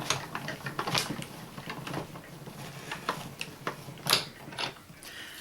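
Paper in an embossing folder cranked through a manual embossing machine, a close run of uneven clicking, ratcheting and gear noises with a few sharper clacks near the end.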